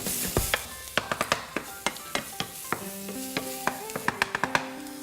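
Garlic and fresh basil sizzle loudly in a hot pan, with a steady frying hiss broken by frequent sharp spatters and crackles and some utensil clinks.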